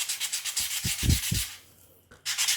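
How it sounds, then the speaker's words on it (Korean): 400-grit paper sandpaper rubs back and forth over a 3D-printed ball-jointed doll part, a close, soft scratchy rhythm of quick strokes with a short pause before rubbing resumes. "좀 더 가는 사포로 한 번 더 밀어줍니다. 요거는 400방짜리예요."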